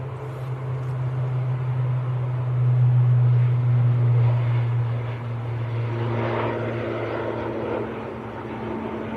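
An ATR 72 turboprop airliner heading for Guernsey drones past near a Manchester airport, its steady low propeller hum swelling in the middle and easing off, with faint broadband engine noise throughout and no talking.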